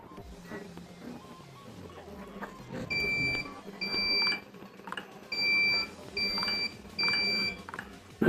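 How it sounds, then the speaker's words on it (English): A piezo anti-theft floor mat's buzzer, driven by an Arduino, sounds repeatedly when stepped on: six short, shrill electronic beeps in an irregular rhythm, close and clear over a faint background. "so buzzer will make sound."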